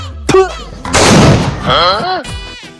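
Several sharp Diwali firecracker bursts crackle loudly and close, one dense burst in the middle, with a voice speaking between the bangs.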